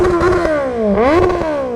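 An inline-four superbike engine revs loud and close with a smooth, high-pitched wail. It sweeps down, climbs again, then eases off, alone with no voices.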